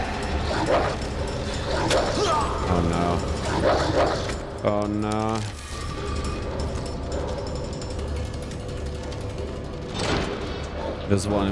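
Dogs bark and whimper in the Resident Evil 2 Remake video game amid mechanical ratcheting and gear clatter, with someone talking over much of the game sound.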